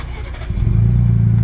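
A Ford Bronco engine cranks and catches, then settles into a loud, close, rising rumble as it revs.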